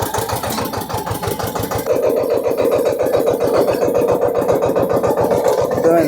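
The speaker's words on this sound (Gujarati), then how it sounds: "કઈ રીતે આ ટ્રેક્ટરમાં પાળી બાંધે છે" A tractor engine runs steadily and loudly while it shapes raised field ridges for planting brinjal, its rapid rhythmic pulsing growing stronger after the first couple of seconds and holding close and continuous.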